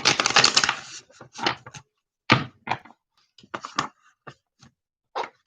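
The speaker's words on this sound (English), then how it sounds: "I'm not finished shuffling" Tarot cards being shuffled by hand during a live reading, heard as a riffling burst followed by a series of short, close papery flicks and taps separated by brief pauses.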